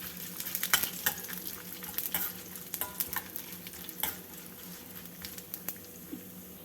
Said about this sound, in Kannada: ಈಗ ಇದನ್ನು ಸ್ವಲ್ಪ ಕಲರ್ ಚೇಂಜ್ ಆಗೋ ತನಕ ಹುರ್ಕೊಳ್ಳೋಣ